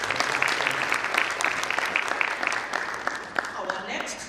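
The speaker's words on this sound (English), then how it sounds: "Let's give a round of applause." Audience members at a sanitation project hackathon in Western Kenya give a round of applause, moderately loud continuous clapping lasting a few seconds with some voices mixed in.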